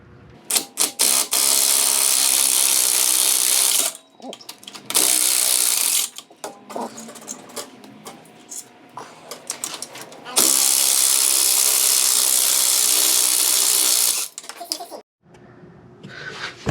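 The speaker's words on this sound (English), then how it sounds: "It's the ratcheting wrench. It's like the best, easiest way to get it out." A ratcheting wrench backing bolts off a titanium exhaust on a Porsche 911 996 Turbo, with loud bursts of rapid clicking and metallic rattling separated by brief pauses.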